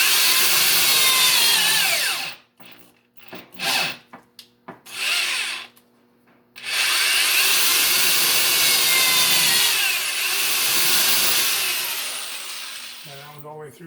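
A drill bores through metal in a lathe fitting job, with short bursts followed by a long sustained grinding whine that slowly fades. A brief chirping squeal comes near the end, and no one talks.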